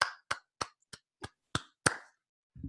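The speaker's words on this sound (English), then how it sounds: "Just a round of applause." Seven separate sharp claps, spaced evenly and close by, in a quiet room, offered as applause after a Hamlet performance, with a faint low sound at the very end.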